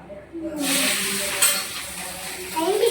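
A sudden loud sizzle as tempering spices hit hot oil for potato dal, hissing steadily for a few seconds with a light stir near the end.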